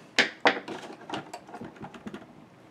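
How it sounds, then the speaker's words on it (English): Scissors cutting necklace threads make two sharp close snips, then a run of fainter clicks and rustles as the blades and threads are handled. "take both of your threads, and hopefully I have a sharp pair of scissors here"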